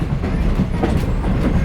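A tourist train rolls along its rails through Lancaster County Amish farmland, giving a steady, loud rumble with faint rhythmic clacking of the wheels throughout.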